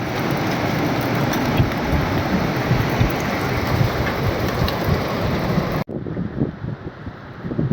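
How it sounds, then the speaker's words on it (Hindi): Heavy rain with gusting wind pours steadily in the hills along Thandiani Road, a dense, loud hiss with wind rumble, which cuts abruptly near the end to softer, lighter rain. "ये देखें हवाओं के साथ सिलसिला जारी है बारिश का।"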